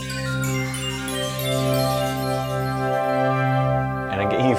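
A Roland D-550 synthesizer plays a bell-like patch with a changed PCM waveform, sustaining as a bright, harmonically rich ringing tone that shifts into a brief wavering sweep near the end.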